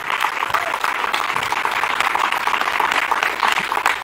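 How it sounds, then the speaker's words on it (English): An audience at an AI learning summit claps in a steady, dense round of applause that lasts throughout, with crowd murmur mixed in. "Can we have a round of applause for Sindura as well"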